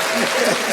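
A short burst of dense clapping in a podcast studio, steady and close, with no gaps.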